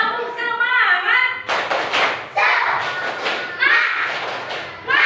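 A primary school class does a rhythmic duck clapping chant, children clapping and calling out in bursts, loud and close, with shouted chanting and voices mixed throughout.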